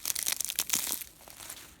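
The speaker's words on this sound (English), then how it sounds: "I like crunching the pine cones." Pine cones crunched underfoot on a morning walk in the woods, a quick run of close, crisp crackling crunches that fade toward the end.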